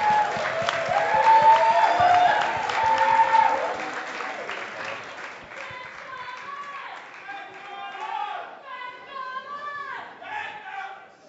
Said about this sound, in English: If everyone can give a round of applause for both of these people,